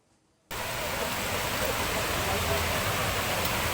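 Overflowing Tanggul river floodwater in Semboro, Jember, pours in a dense, steady broadband rush after half a second of near silence, loud and continuous like a torrent.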